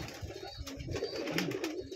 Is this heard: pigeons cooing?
yes